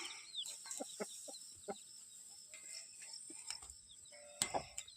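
Chickens cluck softly in short scattered calls in a village coop holding six hens and a rooster, with a sharper squawk near the end, fairly faint and close, over quiet background rustling.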